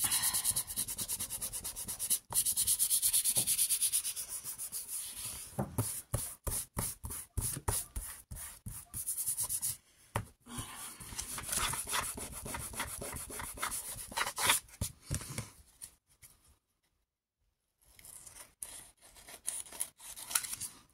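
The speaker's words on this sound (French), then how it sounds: "On fait pareil, on découpe tout ce qui dépasse." Scissors trim excess paper for a scrapbooking page, producing close, rapid runs of rasping snips and paper rustles broken by short pauses and one longer silence, with no talking.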